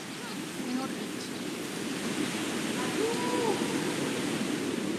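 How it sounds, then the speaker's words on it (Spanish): Cascading water from a waterfall rushes in a dense, steady roar that stays loud and unbroken throughout, with no voices over it. "El sonido de las caídas de agua, como las cascadas, guarda en su interior todas las frecuencias del espectro sonoro que el humano puede escuchar."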